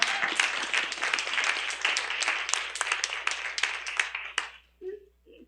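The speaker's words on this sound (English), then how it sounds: "Let's give them a clap." An audience at a talk on directing puppetry breaks into sustained applause, many hands clapping steadily and fairly loudly before it fades out, with a brief voice at the very end.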